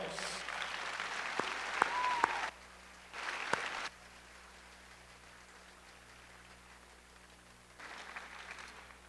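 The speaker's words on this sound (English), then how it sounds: "Let's give them a great round of applause." Audience applause at the Pathways to Success High School commencement ceremony in Ann Arbor comes in bursts: a round of clapping, a short pause, a brief second burst, a quiet stretch, then clapping resumes near the end.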